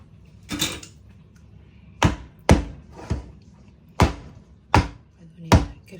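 A cake mould filled with pineapple upside-down cake batter is knocked against a countertop about seven times, giving sharp, close, hollow thuds in an uneven rhythm.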